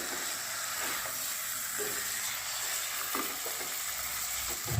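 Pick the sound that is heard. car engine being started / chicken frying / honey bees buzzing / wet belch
chicken frying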